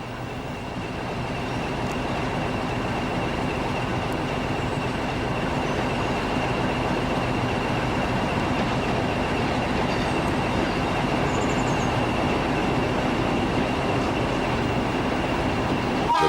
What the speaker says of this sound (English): Approaching Pinal Nova from the west is a 1500 class Alco from Barreiro with a local